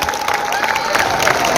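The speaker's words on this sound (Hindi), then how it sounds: "तालियों के साथ" A crowd applauding at a political party event in Uttar Pradesh, a loud, dense wash of clapping with a thin tonal whine running through it, lasting only a moment.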